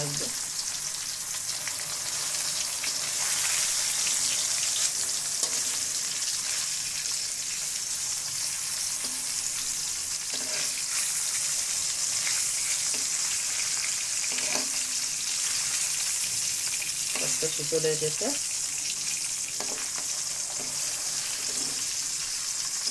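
Hilsa fish frying in hot oil seasoned with a little salt: a steady, loud, hissing sizzle that lasts throughout, with a few stirring clatters and brief speech near the end.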